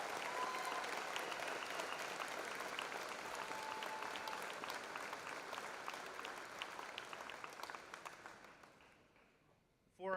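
Graduation ceremony audience at Valders High School applauding the graduating class, a long, dense spread of clapping that gradually thins and fades near the end as a voice begins speaking.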